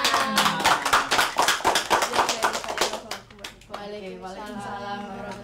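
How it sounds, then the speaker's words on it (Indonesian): Students in a classroom give a short burst of brisk hand clapping during a microteaching session, the claps dense for about three seconds before fading, with voices talking afterward. "Oke, tepuk tangan."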